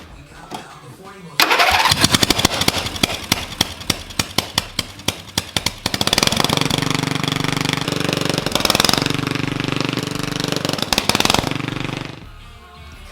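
A racing lawnmower engine with a straight-pipe exhaust and no muffler starts, pops through a rapid, uneven idle, then revs into a loud, raspy roar before cutting off.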